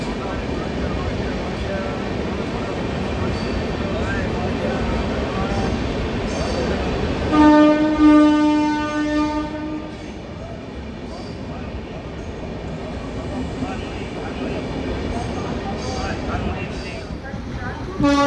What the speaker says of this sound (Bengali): হাওড়া দেহরাদুন কুম্ভ এক্সপ্রেস ওয়েব 7 লোগো নিয়ে থ্রু পাস করছে বর্ধমান জংশন